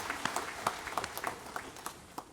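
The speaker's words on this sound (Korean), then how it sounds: "박수로 하나님께 드리겠습니다." Scattered clapping from a small church congregation during a worship service, a little distant and uneven, tapering off toward the end.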